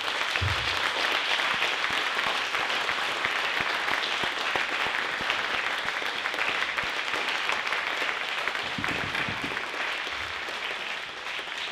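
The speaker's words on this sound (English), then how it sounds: "students, you need to give it a very welcoming applause to these leaders" Audience applause for student leaders at a school awards night, a dense, steady wash of many hands clapping that carries through without a pause, with a faint low thump or two underneath.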